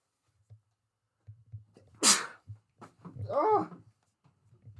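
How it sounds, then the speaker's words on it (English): A single sharp human sneeze in a quiet room, loud and close, with a rising breathy intake and a short voiced tail after it. "Gotta sneeze."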